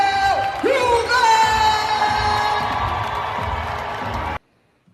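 Loud crowd cheering for comedian D.L. Hughley, with whoops, shouts and sustained yelling mixed with talk, heard close and continuous before cutting off abruptly near the end.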